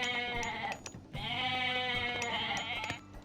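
Goats in the Age of Mythology video game bleat in a few repeated, wavering calls, loud and close, with no talking.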